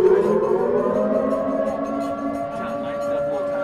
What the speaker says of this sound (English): That's not an air raid siren.